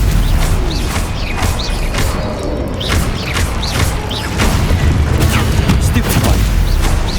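Spell combat in Hogwarts Legacy, with Stupefy cast in a fight: continuous loud booms, magical whooshes and crackling impacts overlap densely throughout, with no gaps.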